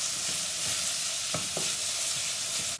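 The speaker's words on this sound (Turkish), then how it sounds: "İyice bir kavuracağız." Onions, carrots, peppers and garlic sauté in a pan for a Turkish vegetable chickpea dish, a steady loud sizzle with a few soft stirring scrapes.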